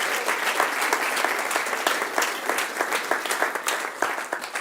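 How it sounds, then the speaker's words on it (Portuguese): Church congregation giving loud, sustained applause after a call to clap for the Lord Jesus, dense crowd clapping filling the room evenly without speech. "dê um aplauso forte para o Senhor Jesus"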